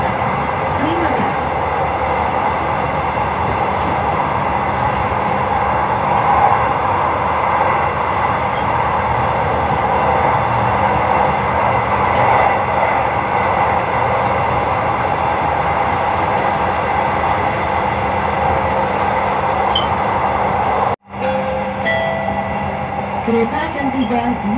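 Inside an LRT train running toward Cikoko station, a steady rolling rumble and whine fills the car, with a voice heard over it and a brief dropout near the end.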